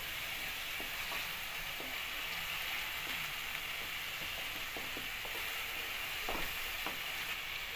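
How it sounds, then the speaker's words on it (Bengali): Onion fries in oil over medium heat with a faint, even sizzle and occasional light stirring taps, heard from a distance. "তেলের মধ্যে সম্পূর্ণভাবে পেঁয়াজটা ভেজে নিতে হবে"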